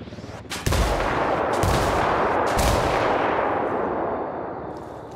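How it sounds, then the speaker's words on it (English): A mortar artillery strike in the video game Ghost Recon Wildlands lands close and loud as a heavy blast, then rolls on in a long rumbling, crackling wash of explosions that slowly fades. "Call Pakatari for some mortar fire."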